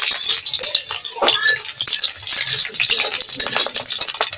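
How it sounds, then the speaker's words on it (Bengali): Garlic cloves and green chillies frying in a pan, with scraping and rattling stirring strokes over a soft, close sizzle. "রসুন আর কাঁচা লঙ্কাটা একটু ভেজে নেব।"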